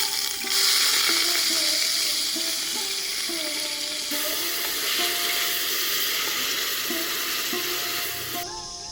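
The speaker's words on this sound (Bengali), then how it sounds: "পেঁয়াজটাকে একটু বেশি করে ফ্রাই করবো আমরা, যেন অনেকটা বেরেস্তা টাইপের হয়ে যায়" Onions frying in hot oil, cooked long until deep golden for a goat trotter nihari, give a steady, dense sizzle with occasional stirring scrapes, close and continuous, with no talking.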